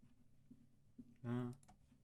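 Typing on a computer keyboard during an online tabletop game session, heard as a few faint, scattered clicks at a low level, with a brief louder burst of noise partway through.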